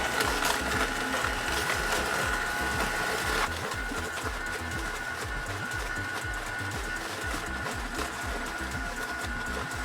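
A Nama J2 juicer runs continuously while juicing celery, with a steady mechanical whir and a dense, rhythmic grinding and crunching, loud and close, with no talking.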